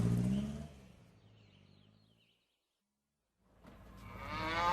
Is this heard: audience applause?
no